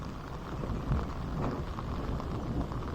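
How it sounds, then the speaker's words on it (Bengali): Steady morning rain falls in a rural setting by a pond, a dense, even hiss of drops at moderate distance that carries on without a break. "এখনও ভালোই বৃষ্টি হইতেছে"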